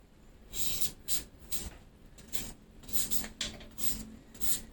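Green papaya is scraped with a new handheld papaya shredder in repeated rasping strokes, about nine bursts in quick rhythm, close up and moderately quiet, with no talking.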